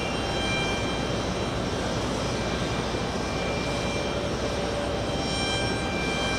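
JetBlue jet airliner engines at JFK produce a constant, loud broadband roar with a thin whining tone on top, holding steady and unbroken throughout with no voices.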